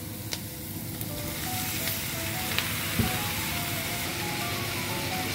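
Beef sizzles steadily in a pot with garlic, spices and carrots for a cabbage stew, a constant crackling fry with a few small clinks of stirring.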